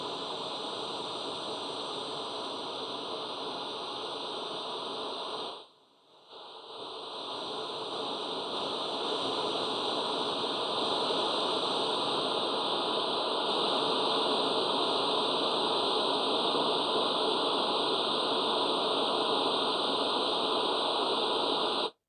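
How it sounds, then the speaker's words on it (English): Loud, steady broadband white noise test signal at about 76 decibels, used for tuning speakers, fills the whole stretch, cutting out briefly for a moment before returning at full level. "The next thing what we're going to do is do white noise."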